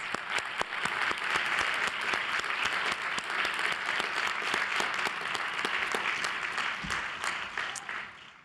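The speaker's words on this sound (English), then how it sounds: "Let's give our graduates a warm round of applause." A large commencement crowd at the Columbia Law School Class of 2023 ceremony applauds the graduates, with sustained, loud, even clapping from many hands filling the hall for the whole stretch before tapering slightly at the end.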